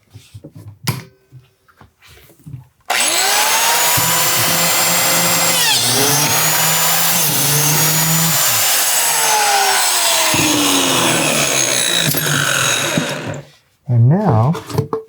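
A biscuit joiner plunging into a clamped vertical wood joint: a loud, close, continuous whirring cut of about ten seconds with shifting pitch, framed by brief talk and handling knocks before and after.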